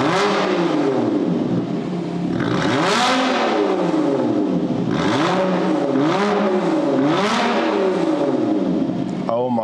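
A Lotus Evora police car engine revs loudly and close by, its note climbing and falling in repeated swells and sweeping pitch arcs over a constant roar.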